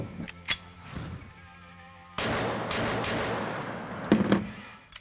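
Gunfire at an outdoor shooting range, with a few sharp cracks early on followed by a sustained burst of noise and more close reports near the end.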